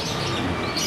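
Canaries chirping in a bird shop, a dense, steady chatter of small bird calls filling the space at close range without pause.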